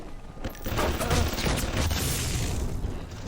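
Automated turret in BioShock Remastered firing a sustained burst of rapid gunfire, loud and dense for most of the stretch.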